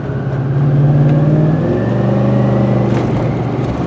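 A Ford F-150 pickup engine roars at full throttle against its speed governor, holding a strained, steady drone with a slight rise in pitch, loud and close throughout.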